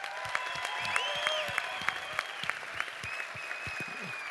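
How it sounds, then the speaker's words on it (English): An audience gives a round of applause for a new president of a Swedish youth team, steady clapping that carries on throughout at moderate volume. "So a special round of applause, because we have a brand new presidential in the Swedish young team, Andreas Grante."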